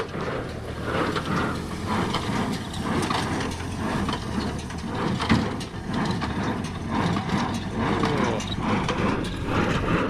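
Dense mechanical clatter of gears and ratcheting parts from a hay baler pressing straw, driven by a Massey 124, churns steadily and loudly nearby, with rhythmic thumps and rustling as machinery works continuously.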